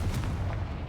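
In a video game, a Confringo blasting spell erupts in a heavy, low, booming blast that rumbles steadily for under a second.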